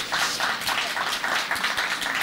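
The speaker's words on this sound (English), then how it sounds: "Tim really deserves a huge round of applause and kudos" An audience at a school solar dedication ceremony claps in a steady, dense round of applause, continuous and fairly loud from start to finish with no talking over it.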